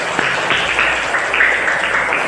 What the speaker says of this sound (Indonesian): tepuk tangan 10